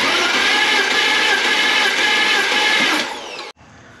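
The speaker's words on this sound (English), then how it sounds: "the engine is going to be cranking over" A BMW engine cranks over on the starter during a compression test, a loud, steady whirring and churning drone that runs for about three seconds, then winds down and cuts off abruptly into near silence.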